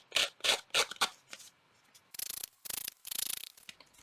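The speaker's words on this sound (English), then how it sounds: "Just take your scissors and use one of those blades and scrape it along the" A scissors blade scrapes along paper edges for a junk journal, heard as a few quick rough rasps followed by longer gritty strokes, close and fairly quiet.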